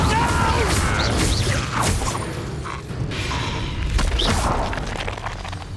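An Incendio fire spell blasts in Hogwarts Legacy, a continuous roaring, crackling burst of game effects with booms and crashes throughout, loud and close, with voiced effort sounds mixed in.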